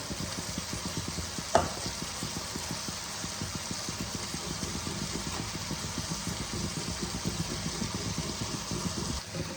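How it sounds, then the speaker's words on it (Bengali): Shredded cabbage sizzles steadily in a pan of frying spices for a Bengali badhakopi ghonto, with a continuous hiss and a soft stirring rhythm and one sharp clink of a utensil. "এবার আমি মশলা কষানোর সাথে বাঁধাকপিগুলোকে দিয়ে দিচ্ছি।"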